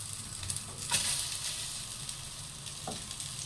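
Chicken kofta fries in hot oil in a tray, giving a steady close sizzle and crackle with a few sharper pops, continuous throughout and heard alone without speech.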